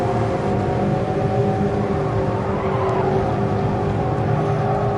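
Front-wheel drive race car in Gran Turismo Sport on PS5, a steady loud engine drone with layered harmonic whine held throughout, continuous and close with no break.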